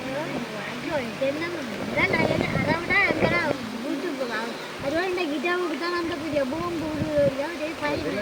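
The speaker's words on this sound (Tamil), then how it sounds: "தண்ணி பயங்கர வேகமாக அதான் பெரிய ஆக்களை இழுக்குது" Loud, steady rushing of fast-flowing, waist-deep flood water fills the scene, with a person talking over it throughout.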